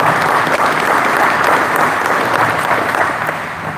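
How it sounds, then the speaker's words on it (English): Loud, sustained crowd applause at an independence rally in Bonnyville, Alberta, a thick even wash of many hands clapping that tapers slightly toward the end. "So please join me with giving them a round of applause."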